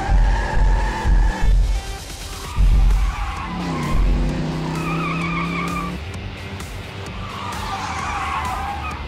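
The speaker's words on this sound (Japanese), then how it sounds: "あの速い車は誰？" A fast cartoon car speeds past with a loud engine roar, then skids with a long tire squeal, the engine rumbling on afterward as a brief scraping burst cuts in.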